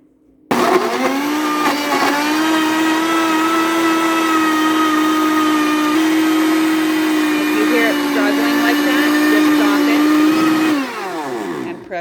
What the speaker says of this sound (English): Now I'm going to go ahead and start blending.